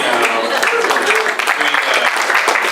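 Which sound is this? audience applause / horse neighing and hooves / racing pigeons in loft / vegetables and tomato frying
audience applause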